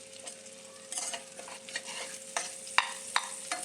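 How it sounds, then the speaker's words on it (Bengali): Chopped onions frying in oil with potatoes and eggs give a soft, steady sizzle under irregular spatula scrapes and a couple of sharp clinks against the pan, close by and with no talking. "পেঁয়াজটাকে এর মধ্যে ভেজে নেবো আলুর সাথে ভালো করে"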